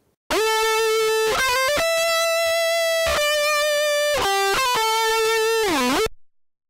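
Electric guitar playing a lead phrase through a distortion box and amp without a cabinet, loud and harsh, with sustained fizzy notes, quick note changes and a final bent, wavering note that cuts off abruptly.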